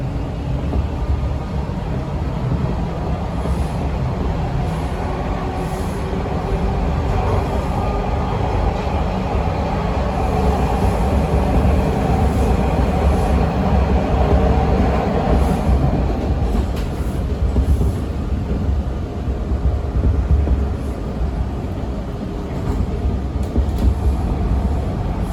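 A Toronto TTC subway train on Line 2 between Kipling and St George, heard from inside the car as a continuous loud rumble with rolling wheel noise and faint rhythmic clatter, steady for the whole ride.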